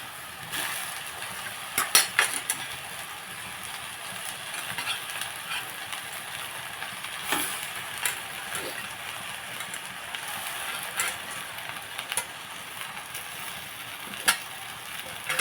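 Tomatoes sizzle and spit in a hot pan while a tomato chutney cooks, a steady frying hiss broken by sharp crackles and pops, with no voices.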